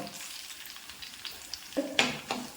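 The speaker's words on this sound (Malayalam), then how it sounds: "ഇനി നമുക്കിതിലേക്ക് ഒരു 1/4 സ്പൂൺ അളവിൽ ജീരകം ഇട്ട് കൊടുക്കാം" Cumin seeds hit hot oil that already holds curry leaves, starting as a faint, quiet sizzle and then breaking into a few sharp crackling bursts as they splutter.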